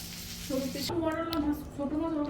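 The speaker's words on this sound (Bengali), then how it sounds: "ছোট মাছ আবার এদিকে কষানো হচ্ছে" Small fish cooked down with spices in a pan give a close, continuous sizzle while a voice talks over it for most of the moment.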